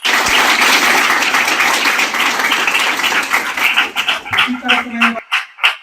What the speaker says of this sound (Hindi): आओ भाई, अभिषेक कुमार के लिए ताली बजाइए आप लोग।